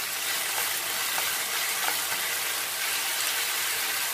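Soy sauce and red chilli sauce for honey chilli potato sauté in a hot pan, producing a continuous, even, close sizzle with no pauses.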